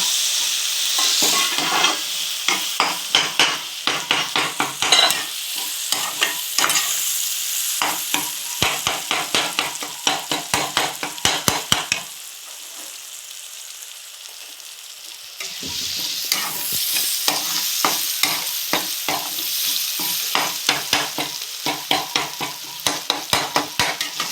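Brinjal kuzhambu stirred in a pan with a ladle, giving long runs of quick scraping clinks over a steady oil sizzle, with a short quieter stretch midway before the sizzle and stirring return.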